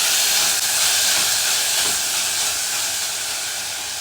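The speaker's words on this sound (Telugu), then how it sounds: "అన్నీ మంచిగా వేయించుకుంటున్నాను" Tomato pieces and fenugreek powder fry in a pan while a quinoa, green pea and tomato dish is cooked: a loud, steady, close sizzling hiss runs throughout, with no talk.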